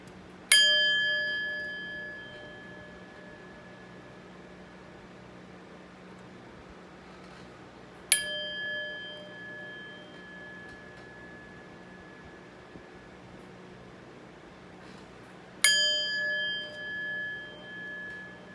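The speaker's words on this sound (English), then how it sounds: "But first, let's chime." Three bright metallic chime strikes ring out about seven seconds apart, each with a sharp onset and a long, shimmering decay over a low steady hum, with no talking.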